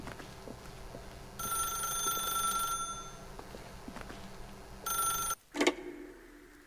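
A telephone rings in The Stanley Parable, two bright trilling bursts separated by a pause, then a sharp click and brief rustle as the receiver is lifted.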